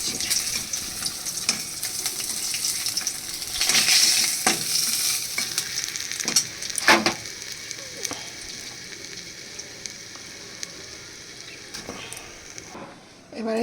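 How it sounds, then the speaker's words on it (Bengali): Rohu fish pieces frying in hot oil, a close, steady sizzle broken by bursts of spattering and the scrape of a spatula stirring in the pan. "এবার তেলটা গরম হলে আমি এর মধ্যে একে একে মাছগুলো সব ভাজা করে তুলে নেব।"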